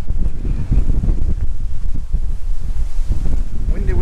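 Strong gusting wind buffets the microphone beside a reservoir along a disused Welsh railway line, a loud continuous low rumble with rapid irregular surges throughout.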